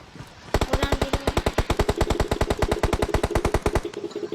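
Rapid automatic gunfire in the video game PUBG, a fast, evenly spaced burst of roughly thirty loud, close shots lasting about three seconds, then stopping abruptly.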